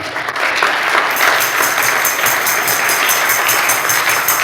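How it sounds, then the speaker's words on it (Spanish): A church congregation at a Christian camp service applauds loudly and continuously, the clapping settling into a steady rhythmic beat after the first second. "Denle un aplauso al Señor."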